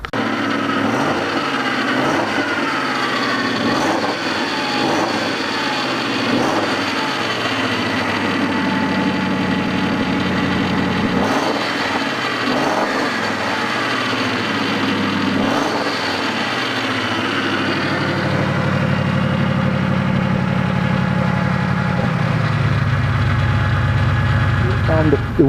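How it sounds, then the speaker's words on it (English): The idling engine of a Ford Crown Victoria with a 4.6 SOHC V8 and turbo runs close by with a continuous mechanical whine and hum from the power steering pump, rising slightly in pitch near the end, with no talking. "The noise you hear is power steering."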